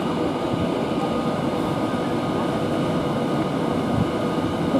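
A train from Birmingham New Street to London Euston rumbles through Milton Keynes Central station, a loud, steady rolling roar with a faint high whine running through it and no speech.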